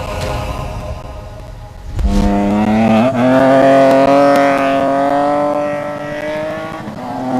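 Nissan pickup truck racing through sand on a Dakar Rally stage, its engine loud and close, revving hard with rising harmonic pitch after a sharp gear change near the two-second mark.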